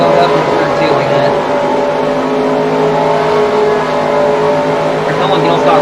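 Race car engine from NASCAR Racing 2003 drones steadily and loudly throughout, with a sustained high revving tone and no letup in level.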